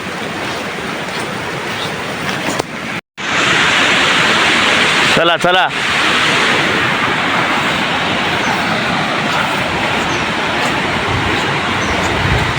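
Heavy monsoon rain in a Konkan village near Khed makes a loud, steady roar. A brief dropout and a short burst of handling noise break it, and someone speaks briefly over the downpour.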